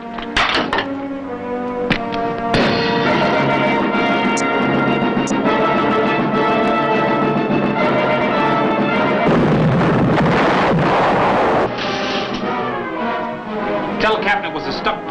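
A submarine fires torpedoes in a wartime naval drama, heavy thumping launch blasts and clanks ringing out amid shouted commands and crew voices, with a rumbling rush of air and water in the middle.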